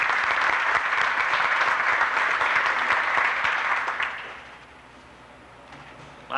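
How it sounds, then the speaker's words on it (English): People at a groundbreaking and ribbon-cutting gathering applaud the caterer, sustained clapping for about four seconds that then fades out to a quiet room. "I'd like to give him a round of applause"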